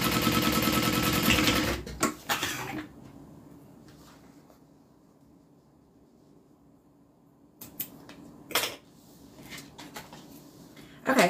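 A sewing machine stitching pieces of a Colette bag, a loud close whirring run for about two seconds, then quiet with a few handling clunks and short stitch bursts, brief talk in places.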